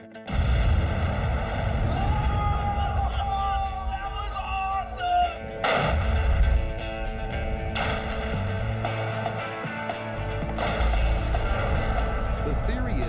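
Explosives detonated inside a bunker in a test of whether the blast can turn carbon into diamond, giving several loud booming blasts with rumbling echoes, one sharp burst near the middle and more deep booms later.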